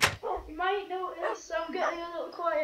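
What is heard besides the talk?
dog whining in background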